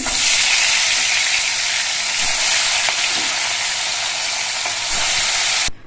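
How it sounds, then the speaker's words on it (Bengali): Parshe fish pieces frying in hot oil in a pan give a loud, steady sizzle that runs unbroken with no talking and then cuts off abruptly near the end. "বাকি মাছগুলো আমি একইভাবে ভেজে নিচ্ছি"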